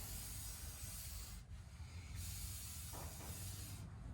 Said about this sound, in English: This is silicone, and I'll just spray it.